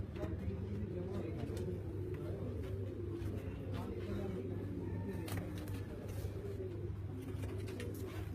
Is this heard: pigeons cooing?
yes